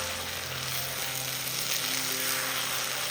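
Bitter gourd cooking in a pan gives a continuous, dense sizzling hiss at steady volume, close and even throughout with no voices.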